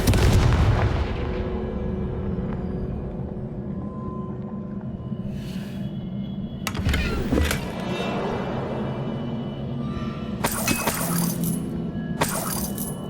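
A Confringo blasting spell goes off in Hogwarts Legacy: several sharp explosive bursts with a shattering, crackling edge land over a steady rumbling game soundscape. The bursts come loud and close, spaced a few seconds apart.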